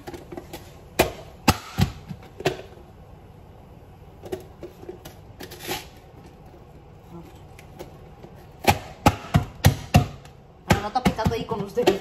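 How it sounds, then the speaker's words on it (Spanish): An onion is chopped with a knife on a board, giving quick bursts of sharp, close taps separated by quieter pauses, with faint background noise in between. "ya voy a picar cebolla"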